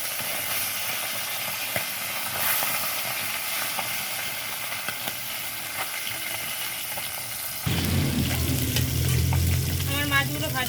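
Fish frying in hot oil for a light fish curry, turned over to cook the second side: a steady dense crackling sizzle that swells louder and fuller partway through, with scraping stirs and spatters close by, no talking.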